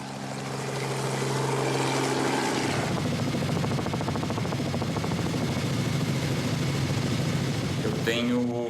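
A helicopter on a São Paulo rooftop whirs and builds to a steady loud rotor drone as it lifts off, with someone speaking over the noise.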